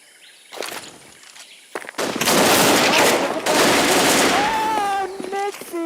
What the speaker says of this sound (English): Nixie going ham at this point with that AK